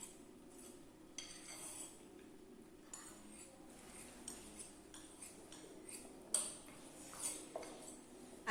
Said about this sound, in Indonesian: Aduk kembali hingga tercampur rata.